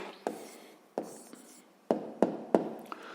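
A pen jots down the answer to a fifth-grade maths exercise: a handful of sharp taps and short scratchy strokes on paper, close and quiet, with pauses between them.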